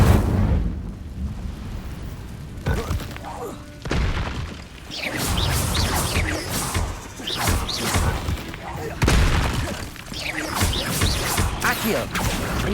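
The Incendio fire spell in the Hogwarts Legacy video game is cast during a busy fight in the Forbidden Forest, with repeated whooshing bursts, booms and crashes mixed with shouted spell calls and other battle noise.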